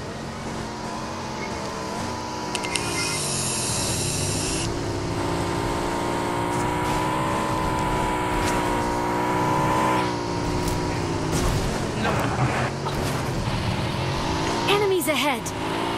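Engine of a car in a video game droning and revving steadily nearby with shifting pitch, under excited gamer chatter and mixed game sounds.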